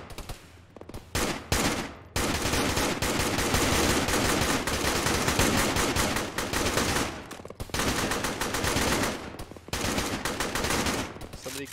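Sustained automatic gunfire in the military simulation game ArmA, loud, dense and continuous for most of the stretch, with brief lulls and renewed bursts near the end.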